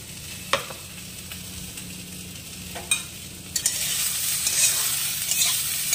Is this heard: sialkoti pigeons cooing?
no